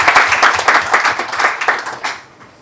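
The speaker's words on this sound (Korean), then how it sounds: "박수 한번 주십시오." A seminar audience applauds with brisk, dense clapping that fades out over a couple of seconds, ending in near silence.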